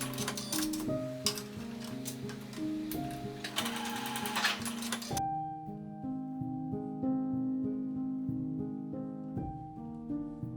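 A sewing machine basting the inner ties of a hanbok runs in steady mechanical bursts, close and clear. The tone shifts partway through as the stitching speed changes, and no one speaks.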